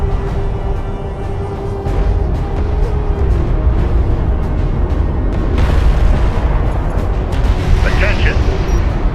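A turret takes fire in Homeworld: Deserts of Kharak, with heavy booms and rumbling impacts continuing throughout, mixed with mechanical sounds and a voice speaking over the battle.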